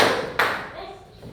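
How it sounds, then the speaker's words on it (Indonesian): Children in a classroom clap during a concentration game, a burst of scattered claps followed by one sharp, loud clap, then fading into quieter room sound. "Tepuk saja, oke?"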